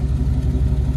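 An old-body Chevy truck engine fitted with a ZL1 true dual exhaust idles with a deep, low, steady rumble, close and continuous.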